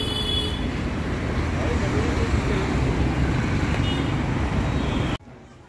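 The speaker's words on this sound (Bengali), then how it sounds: "বাস যাচ্ছে, তো এটা সিধে খারগর যাচ্ছে" A bus rolls past on a busy road in Navi Mumbai, its broad engine rumble and roar filling the scene steadily amid general traffic noise before cutting off abruptly.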